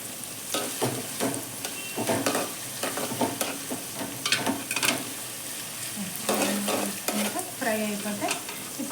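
Bottle gourd pieces frying in a pan with a little salt, a crackling sizzle broken by repeated scraping and stirring strokes of a spatula, close and moderately loud, no talking.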